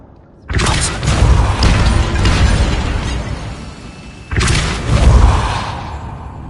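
Depulso force-push spell cast in Hogwarts Legacy, a loud whooshing blast with a rumbling thud that sustains and fades, followed by a second similar burst.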